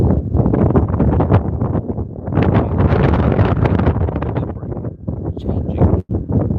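Strong outdoor wind buffeting a microphone, with heavy low rumbling gusts that surge and ease continuously, loud and close throughout, with a brief dropout near the end.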